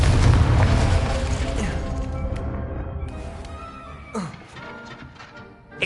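A Confringo blasting spell goes off in the Hogwarts Legacy video game, a loud, dense booming burst that slowly decays, followed by a few sharp crackling impacts near the end.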